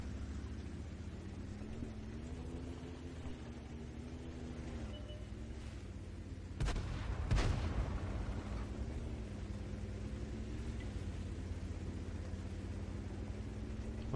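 A tank cannon fires once in World of Tanks, a sudden loud boom with a short crack and a rolling tail, rising over a steady engine rumble that drones on through the whole scene.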